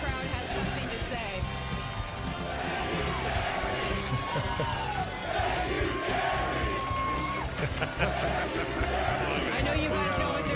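Stadium crowd at a Packers game chanting in unison, a loud roaring mass of voices with rhythmic swells and whoops filling the space for several seconds.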